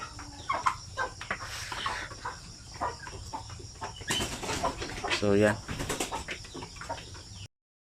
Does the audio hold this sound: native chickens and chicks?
yes